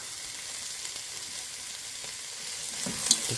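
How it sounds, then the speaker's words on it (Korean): Garlic, chili pepper, green onion, black pepper and perilla seed powder stir-fry in perilla oil for a sweet potato stem dish, giving a steady, fairly quiet sizzle with a faint clink near the end. "들기름을 넣고 살짝 열을 올린 뒤에 볶음을 하려면 마늘, 군추, 파, 후춧가루, 들깨가루를 넣고 볶아줍니다"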